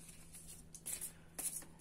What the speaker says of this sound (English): we will go ahead and start shuffling